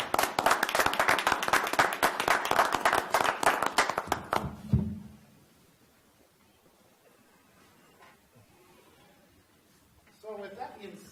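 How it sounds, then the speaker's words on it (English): Applause fills a city council chamber, dense clapping from the seated audience that runs steadily for about four seconds and then fades quickly, leaving quiet room tone before a voice resumes near the end. "I will just do a round of applause"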